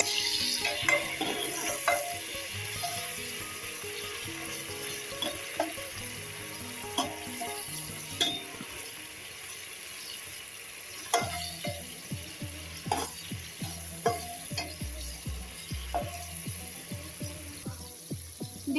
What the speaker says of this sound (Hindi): अब हम इसमें टमाटर डालेंगे। इसे हम थोड़ी देर पकाएंगे जब तक टमाटर पूरी तरह से गल न जाए।